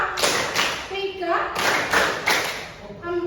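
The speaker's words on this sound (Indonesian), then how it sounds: "Tepuk 4 2 kali kanan, 2 kali kiri." Rhythmic clapping and tapping of hands plays in a steady pattern of sharp claps, mixed with a spoken count over the top.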